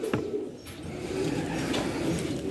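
Pigeons cooing at a bird auction in Suceava, soft repeated low coos close by over a steady background murmur, with no speech.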